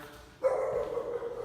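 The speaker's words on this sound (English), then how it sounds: "Oh yeah, that's the neighbor's dog." A single dog bark rings out, then a drawn-out howl or whine follows, moderately loud at some distance.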